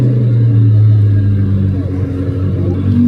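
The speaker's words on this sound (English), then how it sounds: "let's see what the Revuelto with Gintani exhaust sounds like" A Lamborghini Revuelto V12 engine with a Gintani exhaust idles with a deep, steady low rumble, loud and close, holding a constant throbbing tone throughout.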